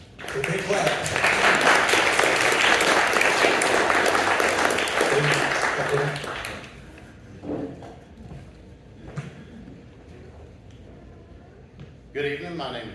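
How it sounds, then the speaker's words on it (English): A church forum audience for county sheriff candidates breaks into loud, sustained applause for about six seconds, then it fades to scattered claps and room noise before a voice starts. "A big clap."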